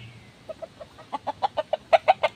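A pet chicken clucks close by in a quick, regular run of about a dozen short clucks that grow louder as they go, with no talking.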